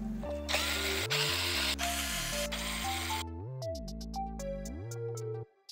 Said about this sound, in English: So now I have unscrewed both sides of panel